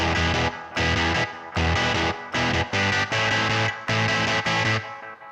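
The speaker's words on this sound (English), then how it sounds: "the reverb on here is more like an amp reverb" Choppy bursts of distorted electric guitar chords from a synthesized guitar, struck in a stop-start rhythm, each ringing briefly with a roomy amp-style reverb tail.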